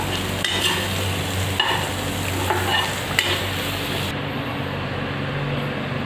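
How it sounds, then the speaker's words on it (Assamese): Dry fish fries in a pan and is stirred, with scraping strokes over a steady sizzle before the sound drops quieter near the end. "এবাৰ এইখিনি আকৌ ভালদৰে লৰাই দিছোঁ।"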